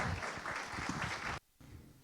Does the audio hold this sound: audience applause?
yes